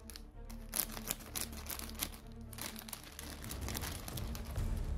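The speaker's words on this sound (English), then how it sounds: "the scissors are doing a horrendous assault here, trying to make their way through the outer defences of the parcel" Close-up crinkling and crunching of plastic packaging as scissors snip and tear at it, a dense run of small irregular clicks and rustles.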